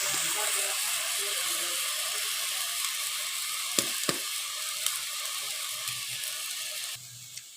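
Tomatoes sizzle steadily in a pan in a continuous close hiss, with a few sharp clicks and taps from utensils partway through and the frying fading slightly at the end.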